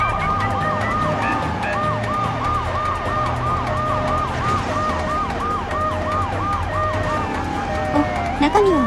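Ambulance siren in the video game GTA III, a continuous wailing up-and-down cycle repeating steadily over game engine and traffic noise, loud and close with no talk.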